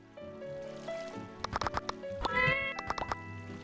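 A cat meows repeatedly in the video game My Time at Portia, several tonal mews close up over a soft background music bed, with a few short wavering calls clustered in the middle.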